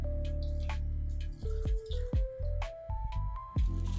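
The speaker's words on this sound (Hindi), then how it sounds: "इनके ऊपर थोड़ा सा पानी डाल देंगे ना ये जल्दी साफ हो जाएंगे।" Water poured from a kitchen tap over dirty mugs, with splashing and dripping in short bursts and rising, bubbly tones as the mugs partly fill, heard close and alone.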